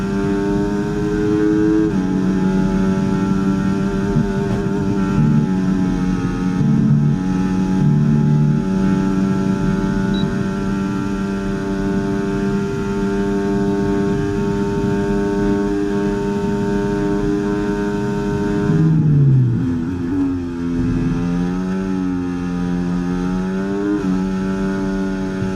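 A Williams FW46 Formula 1 car in the F1 2024 game at the Belgian Grand Prix, its engine droning loud and steady with a sustained high whine, then briefly dropping in pitch and climbing again as it shifts near the end.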